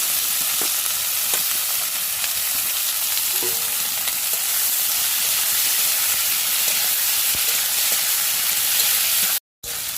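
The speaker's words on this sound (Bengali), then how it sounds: "আর গোটা পেঁয়াজটা দেখো বন্ধুরা ভেজে নিয়েছি" Onions fry in hot oil with a strong, continuous sizzle and scattered crackles. It cuts out briefly near the end.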